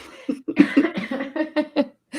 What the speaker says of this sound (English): I got another cough coming.